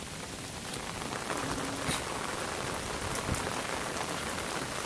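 Heavy rain pours steadily onto a surface, a dense, unbroken wash of drops with no voices, close and constant throughout.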